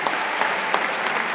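A live audience applauds a musician and his band at a concert in Avellino, giving a brief burst of dense, steady clapping.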